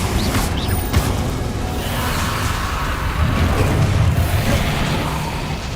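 Confringo fire spell blasts in Hogwarts Legacy: a dense, loud rumble of fiery booms and whooshes running continuously, with no distinct gaps and no voice heard.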